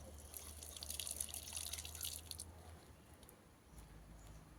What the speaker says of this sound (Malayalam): ഇപ്പൊ കഴുകി എടുത്തു